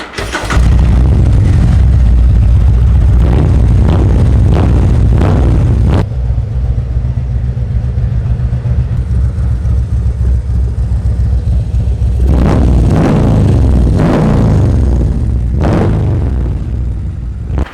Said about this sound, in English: when you change the cam, man, that rumble comes right back